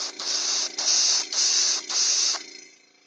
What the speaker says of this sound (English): So by the time I'm done airbrushing this, it's going to look mostly white